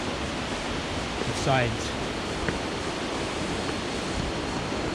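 A steady, full roar of falling water fills the scene at Cascada de los Caballeros in Suaita, Colombia, with a brief spoken voice partly masked underneath.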